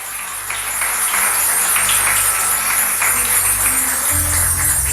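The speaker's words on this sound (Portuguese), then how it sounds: "Aplaude o Senhor." Church congregation applauding during an evangelical sermon, a steady wash of clapping from many hands filling the room at even loudness throughout.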